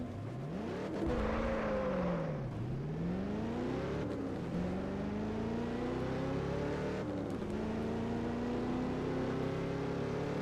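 Virtual cars in Test Drive Unlimited 2 doing burnouts at night: a loud, steady engine revving and rising and falling in pitch with repeated throttle swells, continuous over the full stretch with no talk.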